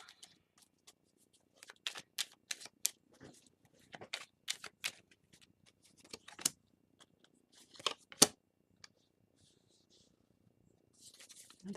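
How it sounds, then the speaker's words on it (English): Tarot cards riffle and slap in scattered quick bursts, soft and close with quiet gaps between, and a voice speaks briefly near the end. "Another shuffle."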